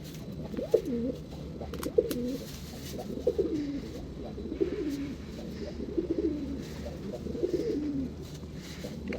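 A pigeon coos repeatedly, a steady series of soft, low, rolling calls spaced about a second apart, close by over a faint background hum.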